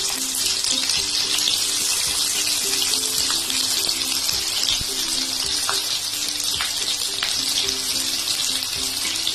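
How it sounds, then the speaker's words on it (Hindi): Onions sliding into hot refined oil and frying for veg chowmein, a loud continuous bright sizzle with crackles and small pops, close by, with a faint hum beneath and no talk. "रिफाइंड गर्म हो चुका है तो इसमें धीरे धीरे प्याज डाल दूँ।"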